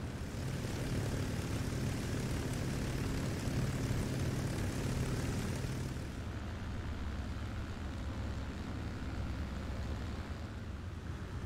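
A Hawker Fury biplane's piston engine drones loudly and steadily, then drops to a slightly lower, quieter hum halfway through, with no voices.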